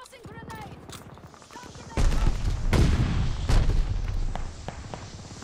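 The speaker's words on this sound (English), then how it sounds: "Tossing grenade!" Grenade blasts and gunfire from the Call of Duty: Vanguard Annihilation mode, a heavy burst of booms and rapid shots breaking in partway through and rumbling on, with game voices calling out over the din.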